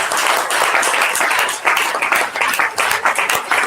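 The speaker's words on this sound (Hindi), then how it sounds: "क्या हम जीसस को जोर से ताली बजाएंगे," A congregation at a Hindi church service in Varanasi claps loudly together, a dense, sustained burst of applause lasting a few seconds with little else heard.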